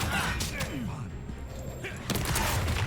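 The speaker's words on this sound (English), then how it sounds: "you really made me miss my first shot with the rocket launcher god" Rocket launcher fire in the game Lost Ark, dense booming blasts and thuds layered over a continuous barrage of explosions, loud and close with game effects throughout.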